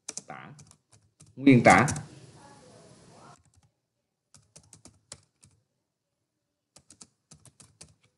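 Typing on a computer keyboard, scattered soft clicks in short bursts after a brief stretch of speech, quiet and close with silence between the keystroke clusters.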